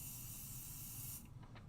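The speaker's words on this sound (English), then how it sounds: "with a little bit of pixie spray" Pixie spray hissing from a can onto a delicate craft stencil of leaves: one steady, close, airy spray lasting just over a second, then cutting off with a few faint soft taps.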